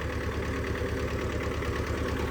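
A steady, close Zetor 1811 tractor engine idles with an even low rumble and rhythmic chugging throughout.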